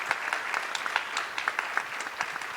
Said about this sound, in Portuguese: Também o Vitor recebe os nossos aplausos.